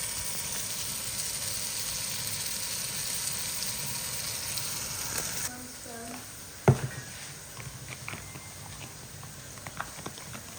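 Bacon frying in a pan for a Mother's Day meal gives a steady crackling sizzle for the first half, then drops to a quieter hiss with a few sharp clatters and pops.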